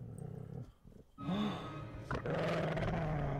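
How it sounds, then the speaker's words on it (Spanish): A dog growls and snarls in the horror game Sonic.EXE Spirits of Hell, a loud, rough rumble that cuts out briefly, then returns in sustained, louder bursts with a rising tonal snarl. "Es el perro."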